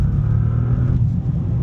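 A 2025 Bentley Continental GT Speed in sport mode, heard from inside as a loud, steady engine roar under acceleration, deep and sustained throughout with no talking.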